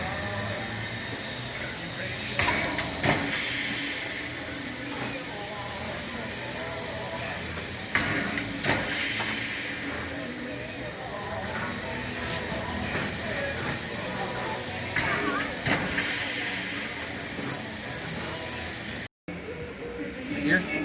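Dollywood Express steam train hissing steadily in a broad, continuous wash, with clanks and brief bursts over a busy crowd, ending in a short gap before noise resumes.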